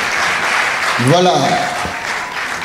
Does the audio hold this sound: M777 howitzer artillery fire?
no